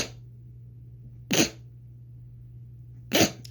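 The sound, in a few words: sneeze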